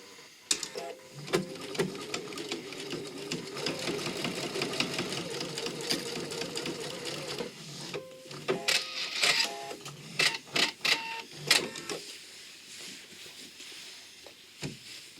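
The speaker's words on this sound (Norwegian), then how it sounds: "Og syr en ny søm, denne gangen litt ut mot kanten" A home sewing machine stitches a new seam near the edge of a button-front shirt dress, a fast steady mechanical rattle for several seconds, then shorter start-stop bursts, heard close with no talking.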